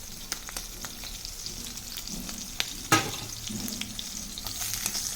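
Dry salt fish frying in a pan for a curry with brinjal, a steady close sizzle with occasional scraping and one sharp clatter midway, no talking.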